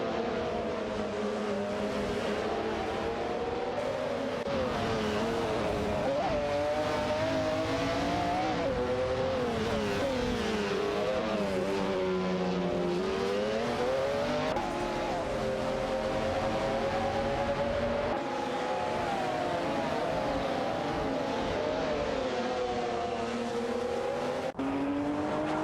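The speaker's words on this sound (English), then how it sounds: "It's a showdown between McLaren F1 and Lamborghini Diablo GTR." McLaren F1 and Lamborghini Diablo GTR racing in a video game, sustained high engine drone with rising and falling revs through shifts and turns, steady and loud for the whole stretch.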